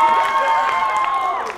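Audience at an improv show claps and cheers in a dense, steady burst of applause with whoops and shouts riding on top, loud and sustained throughout, with no one speaking clearly over it.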